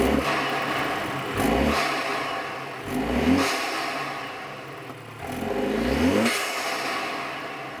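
A BMW 320 with an N20 engine and rerouted intake revs repeatedly, three rising engine pulls with audible intake whoosh and release between them, heard close up without talk.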